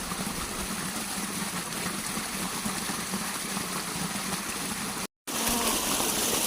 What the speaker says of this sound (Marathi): धबधब पाण्याचा आवाज कोणाकोणाला आवडतो मला तर खूप आवडतो ऐकून घेऊया